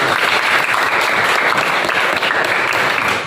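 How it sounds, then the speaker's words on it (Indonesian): Applause for a student named Lutfi during a classroom teaching session, a steady wash of clapping from a group that holds evenly loud throughout. "kasih aplaus dulu untuk Lutfi."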